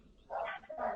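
A dog barks in short bursts in a radio studio, fairly quiet and close, with no talk over it.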